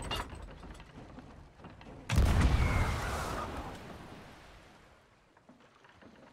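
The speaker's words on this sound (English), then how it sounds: "I'll put you in the cannon and shoot you from the rear." A ship's cannon fires in the pirate video game Sea of Thieves, one loud booming blast with a mechanical clatter, then a long rumble that fades over several seconds.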